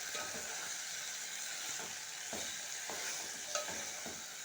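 Capsicum curry being stirred in a pan, a soft continuous sizzle with regular scraping strokes of a spoon against the pan, fairly faint and even.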